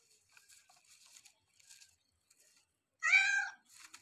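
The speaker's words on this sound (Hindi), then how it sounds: "ये तो बिल्ली निकला इसके नीचे से, फालतू में ही डर गए।" A single clear cat meow rings out, loud and close, after a stretch of faint rustling and scattered small noises.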